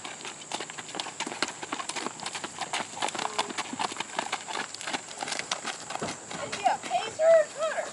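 Hooves of a horse at an auction clip-clopping in a steady trot, a multi-gaited animal that may be a pacer taught to trot, with a crowd murmuring and an auctioneer talking throughout.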